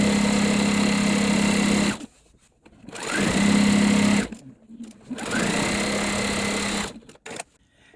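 Close, steady whirring of a sewing machine stitching a quilt seam, running in three bursts of a couple of seconds each with short quiet pauses and faint handling clicks between them.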